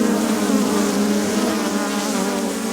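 A close, loud swarm of bees covers a newly swarmed hive in a back garden and gives off a thick, unbroken hum that holds steady throughout, with no one speaking.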